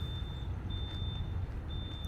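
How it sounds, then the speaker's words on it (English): A smoke detector beeps in a steady, shrill, high pitch, heard at a distance beside the low rumble of a truck engine and road noise. "pretty sure that's a smoke detector."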